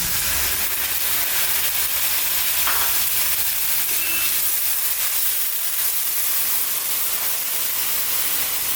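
Spice paste of black pepper, dried red chili and cumin frying in a pan for a jackfruit and egg dish, a steady dense hiss and sizzle throughout, close and alone.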